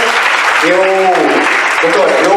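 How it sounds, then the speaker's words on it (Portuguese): Applause for a doctor at a health seminar fills the room as a steady wash of clapping, with voices briefly calling out over it. "Uma bela salva de palmas para a doutora."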